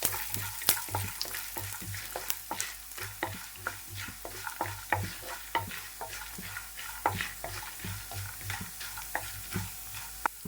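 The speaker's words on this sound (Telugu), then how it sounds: "ఇలా ఫ్రై అయిపోయిన తర్వాత మనమైతే పోపు దినుసులు వేసేసుకుందాం" Tempering spices with urad dal, moong dal, mustard seeds, pepper and cumin fry in a pan, giving a soft continuous sizzle broken by repeated spoon scrapes and taps as they are stirred.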